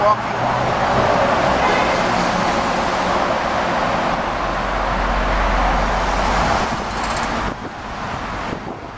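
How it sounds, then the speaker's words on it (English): Continuous roadway rumble of cars crossing the Queensboro Bridge in New York, heard from the walkway with wind buffeting the microphone, a heavier low drone swelling midway as vehicles pass close. "Traffic across the bridge. Not unusual. Bike riders, pedestrians, and lots of cars."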